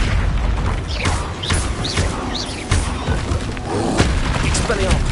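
In Hogwarts Legacy, the Bombarda spell sets off a punchy explosion amid a busy, loud duel, with booming impacts, pops and spell whooshes over a constant rumble of combat sounds.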